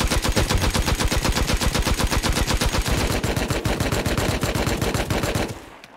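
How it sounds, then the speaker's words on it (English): Tommy gun firing in the video game Rust, a loud, rapid, steady stream of automatic shots lasting several seconds before cutting off abruptly. "Shoot with the Tommy."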